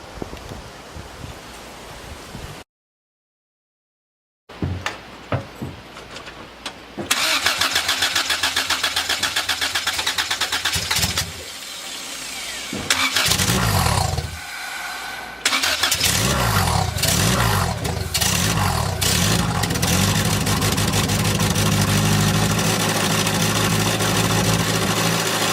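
A turbocharged Honda Civic engine cranks after a brief silence, catches and starts, then idles loudly and roughly up close. Revs surge and dip before it settles into a steady, throbbing idle.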